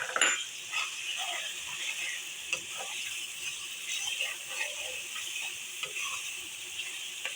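Sliced onions sizzling in hot oil in a pan for kala chana, a steady bright crackle with occasional stirring knocks, close and fairly loud.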